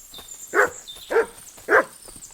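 Three evenly spaced, loud barks from a dog in the video game Kingdom Come Deliverance 2, each short and sharp over a faint, quiet backdrop.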